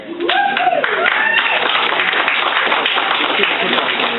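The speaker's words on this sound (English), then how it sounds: "Yeah, big clap, he's good." An audience at a county Republican central committee meeting claps, starting under a brief voice and then filling the room as even, continuous applause for a few seconds.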